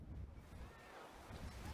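Blustery wind buffets the microphone at a coastal Gaelic football pitch on the Cooley Peninsula during a rain-eased league match between Louth and Roscommon, a steady low rumble with gusting swells and no voices.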